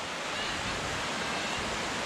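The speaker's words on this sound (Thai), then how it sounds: "ตรงนี้ผมคิดเป็นน้ำตกนะครับ" Waterfall at Khlong Sai in Chaiyaphum, a rocky cliff drop of about twenty metres, rushing in a steady, dense roar of falling water with no break, fairly loud and close, no voices.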